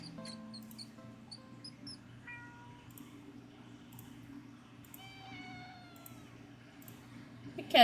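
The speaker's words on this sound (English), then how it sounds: "The kitty sounds are so cute." A cat meows several times in high, wavering cries over a steady low hum and game-like ambience, with no talking, in the video game Do Not Take The Cat Home.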